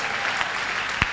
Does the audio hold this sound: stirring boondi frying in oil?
no